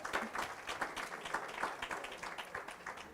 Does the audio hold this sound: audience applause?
yes